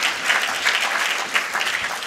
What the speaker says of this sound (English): I would suggest we give a round of applause close.